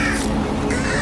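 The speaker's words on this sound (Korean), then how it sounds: "그래, 또 까마귀가 나올 줄 알았어." Harsh, loud crow caws fill the moment in the horror game Little Misfortune, two rasping calls close up with no talk over them.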